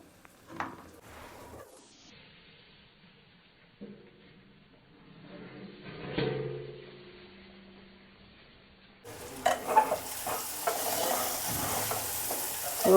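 Cluster bean fry (gorikai palya) being stirred in a pan of oil, with quiet intermittent scraping strokes, then a louder, steady sizzle and crackle of frying that grows toward the end.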